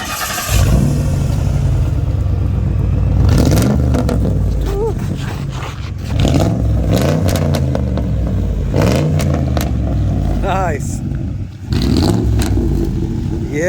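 Push rod V8 in a car fitted with lake pipes fires up and revs hard in several loud, rising bursts, close by, with people talking and reacting around it.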